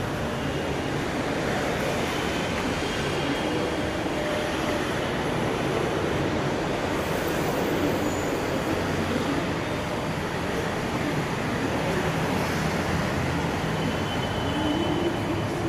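Riding the Kochi metro train gives a constant, fairly loud rumble and rattle that holds steady for the whole stretch, with no voices.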